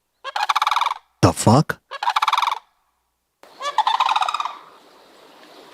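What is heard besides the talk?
sandhill crane calls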